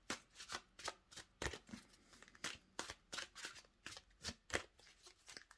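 Tarot cards being shuffled by hand in a quick, steady run of crisp riffling bursts, close and fairly quiet, with no talking over them.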